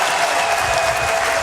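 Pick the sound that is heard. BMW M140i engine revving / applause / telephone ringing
applause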